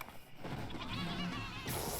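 A goat in the Sker Ritual video game, in the Sewers of the Dead map, lets out a wavering, drawn-out bleat over dense in-game background sound.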